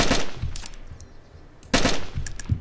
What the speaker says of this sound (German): Alter, wo kommen die ganzen Schüsse her?